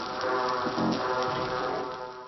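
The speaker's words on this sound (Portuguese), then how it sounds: "Esse é o som de um recife de coral australiano" A dense underwater crackle and hiss from an Australian coral reef fills the scene, steady and continuous, like countless tiny snaps and pops from reef life.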